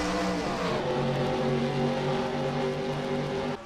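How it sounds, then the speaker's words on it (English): Race car engines in a California racing video game rev and climb through the gears, a loud, steady roar with rising pitch steps lasting several seconds, no voices over it. "So they go back up through the gears, and we're back underway here in California."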